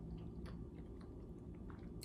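Fried cauliflower is chewed close up, soft wet bites and faint crunches repeating over a loud low rumble of background noise, with no talk.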